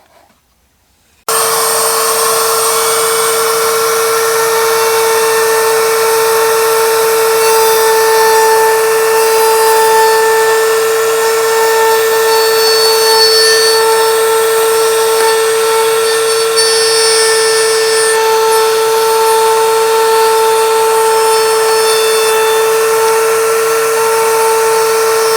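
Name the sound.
router table cutting wood with router bit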